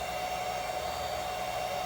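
A hairdryer running on a 1200 watt PowerJack modified sine wave inverter gives a steady, loud whooshing roar with a constant electrical whine, unbroken throughout.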